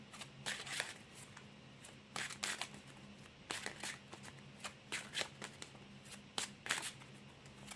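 Deck of oracle cards shuffled by hand, close and soft, with quick riffling bursts repeating in an irregular rhythm over a low steady hum.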